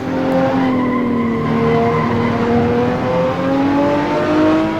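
Race car tires squeal through corners in the Assetto Corsa PC racing game, with long wavering pitched whines layered over a steady engine drone. Loud, continuous and alone, with no talk.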